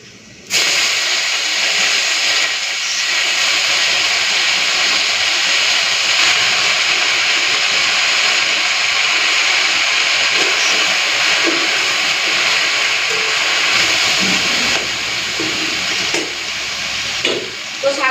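Soft leafy greens hit hot oil with crushed garlic and dried chillies, setting off a loud, sustained hiss of frying that holds steady for a long stretch, with a few faint knocks near the end.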